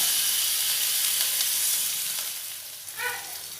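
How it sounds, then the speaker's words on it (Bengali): Ginger paste goes into a hot pan of cumin-seed tempering for vegetarian khichuri, setting off a steady close sizzle and hiss that softens toward the end, with a faint stir or scrape near the close. "ফোড়নটা নাড়াচাড়া করে নিয়েছি, ওতে দিয়ে দেব আদা বাটা"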